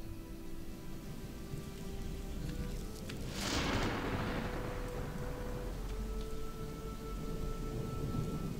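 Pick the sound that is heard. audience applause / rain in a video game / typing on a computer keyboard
rain in a video game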